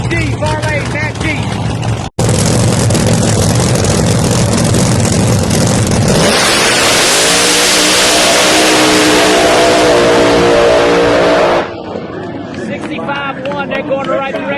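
A ProMod drag racing car launches and accelerates hard down the strip at Bradenton Motorsports Park, a loud roaring engine rising in pitch for several seconds before fading, with crowd noise and announcer talk around it.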